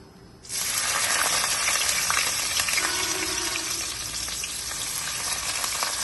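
A medium onion frying in hot oil until golden for masoor dal, with a loud, dense sizzle that bursts in suddenly after a quiet start and then holds steady and close, with no voices.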